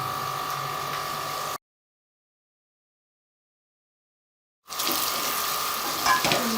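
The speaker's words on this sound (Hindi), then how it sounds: "अब मज़ीद इनको 5 मिनट के लिए भूनेंगे जब तक कि ये इसका पानी कुछ नहीं हो जाता दही का।" Taro root curry masala with yogurt fries in a pan, giving a steady sizzle and hiss. The sound cuts to silence for about three seconds, then the sizzling resumes with a few sharper crackles.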